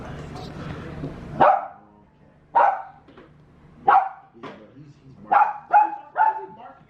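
A dog barks outdoors-indoors nearby in a series of about six sharp, loud barks spaced a second or so apart, with a voice talking briefly at the start.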